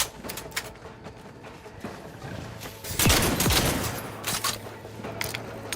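Gunfire in the video game The Outer Worlds 2, a burst of loud shots around the middle of the clip over steady game ambience and scattered smaller effects.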